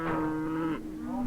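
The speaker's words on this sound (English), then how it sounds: "The Poirots still vaccinate their cattle" Cattle on a grassland farm give a single drawn-out moo, a clear, fairly close low call that holds steady and then trails off, heard alone.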